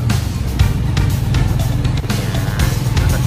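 A motorized tricycle ride toward Caticlan Jetty Port in Malay, Aklan, on a rainy day: a constant close engine drone with rattling and bumps, steady throughout and without talk.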